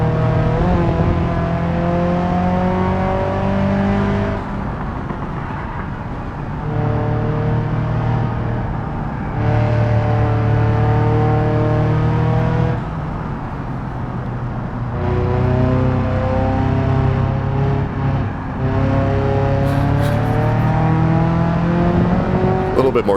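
Ibishu 200BX engine revving repeatedly on hotlaps in a racing video game, a loud steady drone rising and falling through gear changes, with brief dips between surges across the run.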